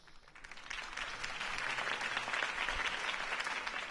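A crowd applauds after Harvey Dent's campaign speech in the Batman Telltale Series video game, with dense, sustained clapping that swells and holds throughout.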